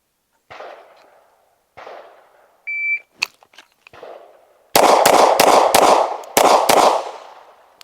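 Sharp gunshots at a shooting range during a timed round: a few spaced single reports with decaying echoes and a brief beep, then a rapid burst of five loud close shots.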